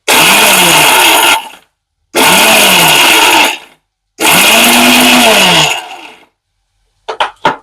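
A mixer grinder pulses spice powder with garlic in three loud, whirring bursts with short silent gaps between them, followed by a few quick rattling taps.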